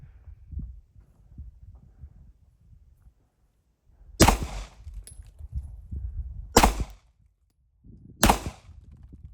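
Three sharp, loud pistol shots from a Pakistani-made Beretta 92 FS ring out a couple of seconds apart during a firing test, each with a short echoing tail over quiet background rumble.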